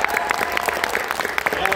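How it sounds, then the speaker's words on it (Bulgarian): Applause from the audience at a Bulgarian YouTube awards ceremony, brisk rhythmic clapping with some crowd noise and a voice over it, short and moderately loud. "Така че аплодисменти за Любо."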